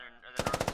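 Rapid automatic gunfire in a military shooter video game; after a brief murmur, a loud, close burst of about seven evenly spaced shots in quick succession.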